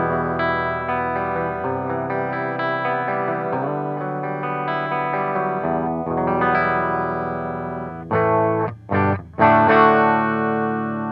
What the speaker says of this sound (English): So here's just the guitar clean, no pedal.